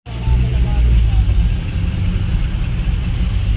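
Heavy road traffic of cars and buses on the way to a temple rumbles steadily up close, a continuous low engine drone and idling hum with faint voices mixed in.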